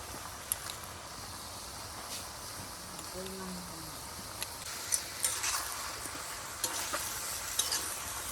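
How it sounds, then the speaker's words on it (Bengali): Vegetables sizzle steadily in a pan while being stirred for a devotional offering meal. Occasional close scrapes and clinks rise above the even frying hiss, and a brief voice is heard partway through. "একটু ভাজা হোক, সবজিটা নরম হয়ে যাক"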